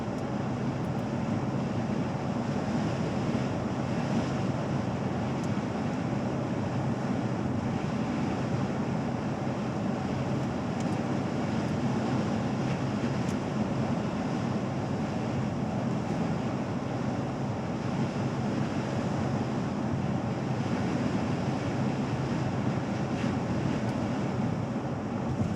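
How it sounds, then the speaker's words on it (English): Steady wind noise roars against a 2018 Jeep Wrangler Unlimited driving at a little over 50 mph, a constant dense rushing broadband wash with no pauses. "the wind is gonna be pretty substantial on days like today"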